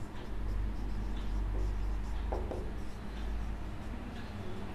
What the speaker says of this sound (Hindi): अब लिखेंगे